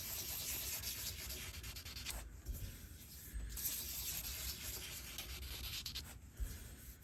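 Hand sanding a resin and wood knife handle with 1000 grit paper, a close, continuous soft rubbing hiss with brief pauses between back-and-forth passes.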